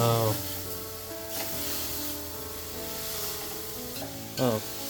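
Vegetables for a Karkidakam thoran sizzle steadily in a hot pan, with a low hum underneath and a couple of brief stirring scrapes.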